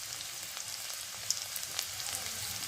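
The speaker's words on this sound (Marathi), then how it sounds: "तेल गरम झालेलं आहे, जिरे टाकून घेऊया, लसूण टाकूया।" Cumin seeds and garlic frying in hot oil, a steady close sizzle with occasional sharp pops and crackles.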